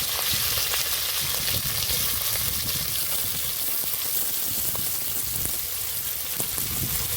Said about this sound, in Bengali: তেল গরম হয়ে গেছে এবার মাছগুলো দিয়ে দেব এখানে চারশো গ্রাম চিংড়ি মাছ আছে